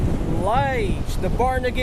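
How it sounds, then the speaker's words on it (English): Strong wind rushes and buffets the microphone beneath a person talking at Barnegat Inlet, with a roaring, gusty texture throughout the short stretch. "Very windy, as you guys can hear in the video, right?"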